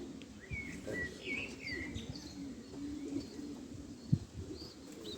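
Pigeons coo softly in low murmuring bursts, with a few faint chirps from other birds overhead and a brief flutter near the end.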